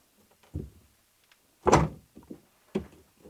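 A door is shut in a basement of a deserted bar-hotel, giving a few close thumps and knocks with one louder bang in the middle and short quiet gaps between them.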